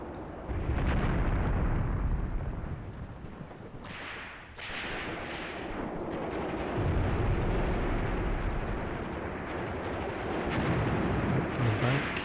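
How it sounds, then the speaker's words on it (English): Artillery shells exploding in the tactical war game Graviteam Tactics: a sustained, loud rumbling barrage of booms that swells and merges into continuous low thunder, with a few brief bursts on top. "Let's hope our artillery lands right on top of them."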